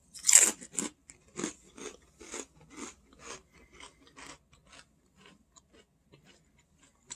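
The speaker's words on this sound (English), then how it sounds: "These are pita crackers that Mom got from Wegmans." Garlic parmesan pita crackers are crunched and chewed close up, with a sharp first bite and then a dozen or so rhythmic crunches. The crunches grow gradually fainter and sparser as they are chewed down.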